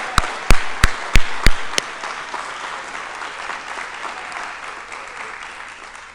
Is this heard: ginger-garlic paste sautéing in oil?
no